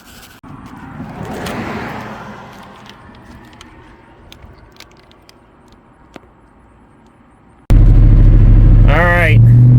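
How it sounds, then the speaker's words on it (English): After a stretch of quiet outdoor background, a 1997 Cobra with a bad rod knock suddenly fires up close by, running loud and rough with a brief rev. "This thing has a pretty bad rod knock."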